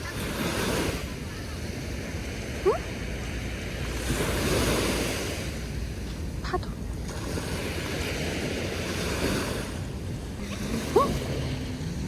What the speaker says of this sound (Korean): 그거야 파도야 파도 파도 치지